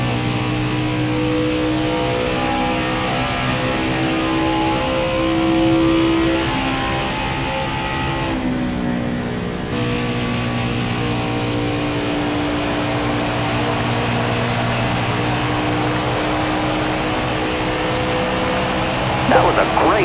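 Race truck engine droning steadily at high revs while lapping Charlotte in NASCAR Heat 5, a loud continuous hum with a brief dip as the throttle lifts into a corner, then climbing again, with someone talking over it.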